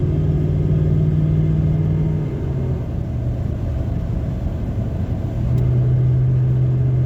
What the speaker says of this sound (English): But here's 65 cruising in 6th gear.